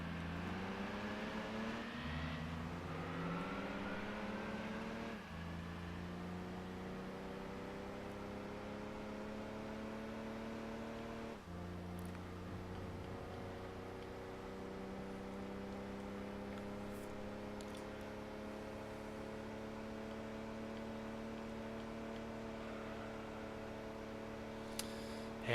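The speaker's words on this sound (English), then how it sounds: "we got a bit of a different engine sound here" Car engine in Gran Turismo 2 droning steadily with rising harmonic pitch through gear changes, shifting down briefly around a few points then climbing again, loud and continuous with no talking.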